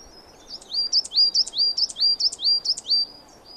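Coal tit song: a clear, high, repeated two-note phrase sung about eight times in an even rhythm, bright and fairly close, over a faint low background hum.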